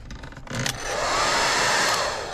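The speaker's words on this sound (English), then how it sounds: "The hair dryer is always here." A hair dryer in a cruise ship cabin on the NCL Prima switches on with a few clicks and handling noises, then blows as a steady, loud, close whooshing hum.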